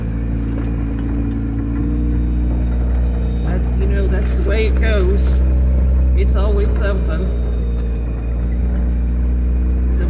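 An old Jeep rock crawler driving on a rough road: a steady, droning engine and drivetrain hum throughout, with a person talking over it from inside the vehicle.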